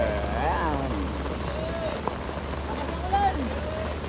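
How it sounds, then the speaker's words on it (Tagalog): Heavy rain pours on Serino Highway with a dense, steady hiss that fills the whole stretch. Voices talk over the downpour throughout. "inabot kami ng malakas na ulan dito sa may Serino Highway"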